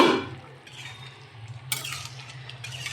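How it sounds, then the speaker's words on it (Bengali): A lid comes off a simmering pot of flat bean, eggplant and stalk curry cooked with mustard and poppy seed paste. There is a sharp metallic clink, then a soft, steady bubbling and sizzling underneath with a low hum. "তরকারির ঢাকনাটা খুলে দেখব হয়েছে কি।"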